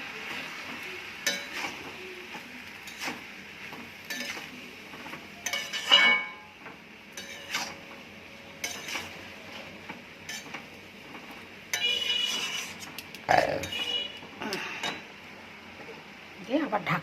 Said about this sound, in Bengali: লঙ্কা দেব, নুন দেব, সামান্য জল দিয়ে এটাকে ভালো করে কষে নেব